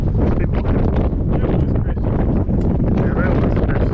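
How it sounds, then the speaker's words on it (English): Strong wind at Quail Island near Christchurch buffets the microphone in a loud, constant roar with rustling and flutter throughout, with voices talking faintly beneath it. "And then it's quite kind of windy"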